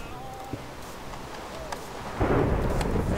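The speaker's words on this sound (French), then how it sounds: "Alors il pleut" Video game rain and thunder, a soft rainy hiss that swells into a loud low rumble of thunder near the end, with someone talking in French over it.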